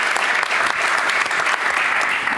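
An audience at an Amsterdam cultural talk event with an alderwoman gives warm, dense applause, sustained and fairly loud throughout with no speech.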